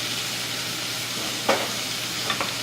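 Ground cumin and red chili peppers fry in a very hot pan, a soft steady sizzle with a brief stirring scrape in the middle and light taps near the end, no voices.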